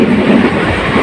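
A passenger train runs on its rails near Jaipur with a loud, close, steady rumble and rattle. No voices are heard over it.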